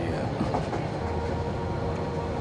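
Running train in a recited radio-style drama, a steady rolling rumble with faint rhythmic clatter of wheels, alone and fairly close.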